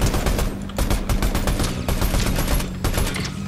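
Rapid bursts of gunfire crackle in a Fortnite match, loud and close with dense, overlapping shots and no talking.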